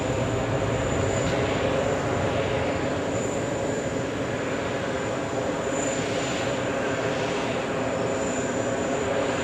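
A British Airways Boeing 777 airliner at JFK Airport produces a steady, loud jet engine roar with a high whine above it, continuous and alone.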